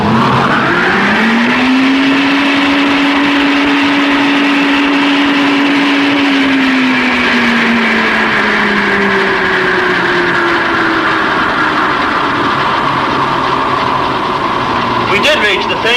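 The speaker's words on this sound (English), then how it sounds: "when we start the blower, we should expect the same speed as before" A wind tunnel blower spins up and runs steadily at about 210 mph, a loud, constant rushing roar with a rising hum that settles and holds for the whole stretch.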